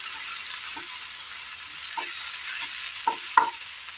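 Vegetables being sautéed in a pan for a curry, with a faint steady sizzle and a few soft, scattered stirring and spatula taps, the last two sharper and closer; no talking.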